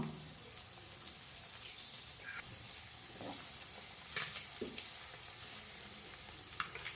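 Boiled eggs sauté in a pan for spicy egg pepper gravy with a soft, low sizzle and occasional faint ticks and crackles, and nobody speaks.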